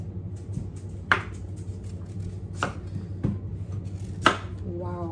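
A knife cuts through softened, freezer-thawed food on a cutting board in a home kitchen, with several distinct, fairly close chops spaced a second or so apart over a low steady hum.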